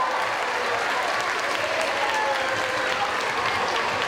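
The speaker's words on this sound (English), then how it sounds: "Let's have a big round of applause." A school audience gives a big round of applause at a March Mayhem event, thick continuous clapping with crowd noise, steady and fairly loud from start to finish.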